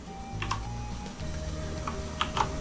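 Typing on a computer keyboard while writing C# code, a run of soft key clicks and a few sharper taps, one of them the Enter key, close and alone over a low background hum.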